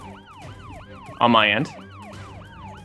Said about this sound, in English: I'll bring those sirens down just a scooch too, because they don't need to be that loud